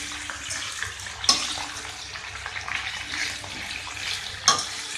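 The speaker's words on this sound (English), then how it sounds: "So mix it well so that the flavor, the oil is mixed with all the vegetables." Mixed vegetables stirred in hot oil in a pan, a continuous soft sizzle with two sharp utensil clanks against the pan and gentle scraping throughout, close up with no talk.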